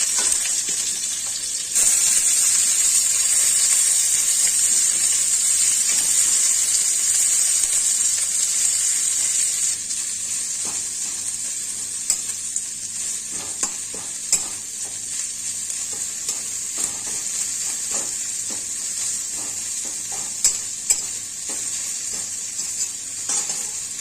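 Chopped onion frying in hot oil over five-spice tempering for a small fish chachchari: a loud, steady sizzle runs throughout with faint stirring scrapes, no voices.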